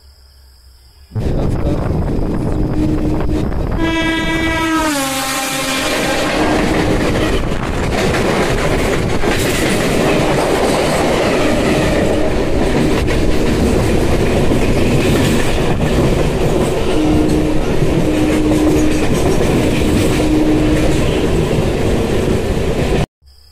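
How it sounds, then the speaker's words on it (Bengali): A passenger train rolls slowly toward Uluberia station in West Bengal, heard from inside a carriage as a steady loud rumble with wheel clatter, a brief rising horn-like tone near the start, and no talk. "ট্রেন ধীরে ধীরে চলছে"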